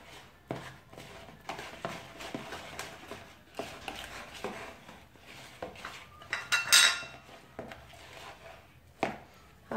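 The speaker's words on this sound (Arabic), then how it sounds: "راح نعاود نخلط كل المكونات تاعنا" Cake batter ingredients are mixed in a bowl with a utensil, giving irregular soft scrapes, taps and clinks against the bowl, close and fairly quiet, with a brief brighter clatter partway through.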